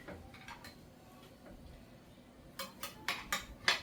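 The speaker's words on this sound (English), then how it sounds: "I'm about to get a spatula on my plate" A metal spatula clinks and taps against a plate while baked biscuits are served, starting with a few light ticks, then a quick run of louder sharp clacks, with no talking.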